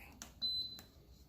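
An Emeril pressure air fryer gives one short electronic beep as the sauté button is pressed, a faint, clear tone heard alone in a quiet kitchen.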